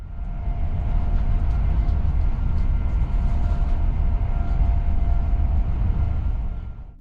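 Steady, loud low rumble inside a CrossCountry InterCity 125 Mark III coach travelling near top speed, with a constant deep roar and faint higher rattle throughout until it eases slightly at the end.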